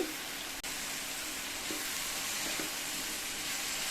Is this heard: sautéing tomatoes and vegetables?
yes